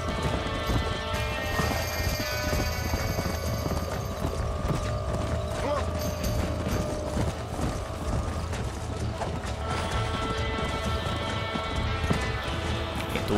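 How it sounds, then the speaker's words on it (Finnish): Steady clip-clop of galloping horse hooves runs throughout over a dense Red Dead Redemption 2 soundtrack with music and clatter, with a horse whinny and a voice now and then. "Meidän hevonen ei meinaa jaksaa ollenkaan pysyä sen perässä."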